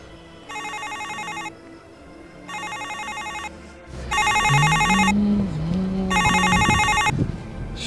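A telephone ringing in bursts of rapid electronic trilling, each burst about a second long with short pauses between, against background room noise. Later, a louder, rising whine and clatter join the ringing.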